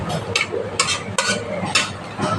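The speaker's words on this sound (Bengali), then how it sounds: "তো এটা ভালো করে মিশিয়ে দিচ্ছি আমি।" Stirring a cabbage and prawn curry in a pan, with close, repeated scraping strokes of a spoon against the pan over a faint sizzle.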